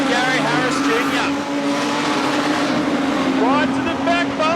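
Production sedan race cars roar around Carina Speedway in a close A-Main battle, engines droning loud and steady with rising and falling pitch as cars pass, under continuous excited commentary.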